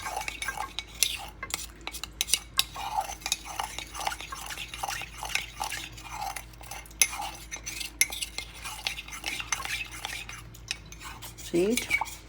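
A utensil stirring an oxtail mixture in a pot, with continuous scraping and clinking against the pot in an uneven rhythm, close and moderately loud, with a short squeaky scrape near the end.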